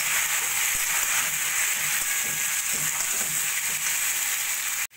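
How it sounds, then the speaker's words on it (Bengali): Pointed gourd pieces seasoned with salt and turmeric fry in hot oil, giving a loud, steady, close sizzle that cuts off abruptly at the end. "নুন হলুদ দিয়ে পটলগুলোকে আমি সোনালি করে ভেজে নেব।"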